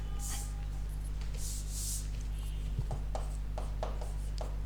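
Marker strokes on a board during a class 12 physics lesson on electric force: short scratchy squeaks in quick bursts over a steady electrical hum, no speech.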